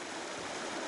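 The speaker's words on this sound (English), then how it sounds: "This is Foos's Creek, South Foos's Creek," South Foos's Creek on the Colorado Trail rushes steadily under a bridge, a close, broad, continuous wash of flowing water.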